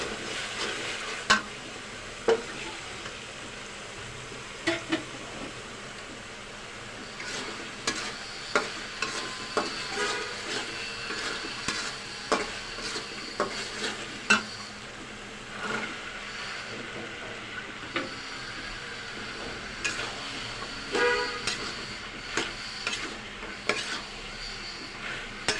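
Dried loitta fish sizzles steadily in a pan as it is sautéed, with a soft continuous fry broken by frequent sharp scrapes and taps of a spatula against the metal, fairly quiet and close.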